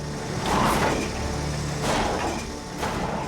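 A heavy recovery truck strains on a winch line pulling a wrecked garbage truck on canyon highway ice, a steady loud engine and mechanical drone with swelling surges as the truck slips toward the wreck.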